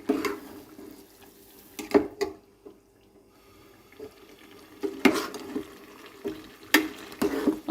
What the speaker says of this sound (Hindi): अब हम इसमें डालेंगे मैरिनेट किया हुआ चिकन जो हमने 1 घंटा पहले मैरिनेट करके रखा है।